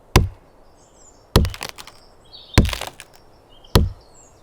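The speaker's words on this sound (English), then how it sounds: "Now I'll cut down a tree." Four sharp axe-like chops against a tree in a survival video game, each a hard woody crack with splintery tail, spaced about a second apart and heard alone.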